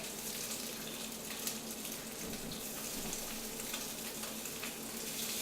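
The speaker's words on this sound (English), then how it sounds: "let's put some of these slices in. You want to hear that sizzle right away?" Steady, crackling sizzle of beef donair meat slices frying in a hot pan, continuous and close with no talking.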